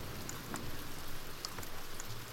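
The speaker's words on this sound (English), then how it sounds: "why is the rain happening inside?" Steady rain falls in the video game Stonehearth, a soft continuous patter with a few scattered drop ticks, alone without talk.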